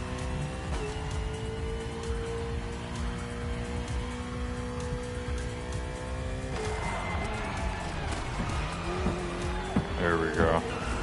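Racing car in The Crew Motorfest sliding under handbrake, a steady engine drone with tire squeal rising after a shift partway through, skidding screeches near the end, with a voice talking over it.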